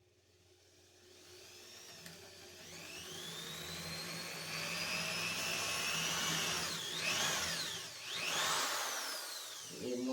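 A power drill with a brad point bit whines steadily, rising in pitch as it spins up, then dips and surges twice while boring into wood; close, no talking.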